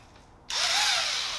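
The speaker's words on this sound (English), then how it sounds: "you have a drill, all right?" A power drill drives screws into the pieces of a Pioneer adjustable lever belt. It starts abruptly after a brief quiet moment, and its whirring motor pitch rises and then settles into a loud, steady whine up close.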